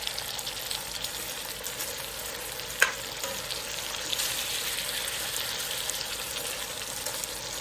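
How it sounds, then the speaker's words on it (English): Butter sizzles and fries steadily in a pan with two medium onions for an Irish sausage stew, a soft continuous crackle with one sharp pop partway through. "I'm adding in my 2 tablespoons of butter."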